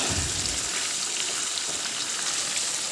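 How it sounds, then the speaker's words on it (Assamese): Meat fries in a pan with a loud, dense, continuous sizzle that stays close and steady throughout, with no voices. "এইফালে মাংসটো মই ভাজি লৈছোঁ"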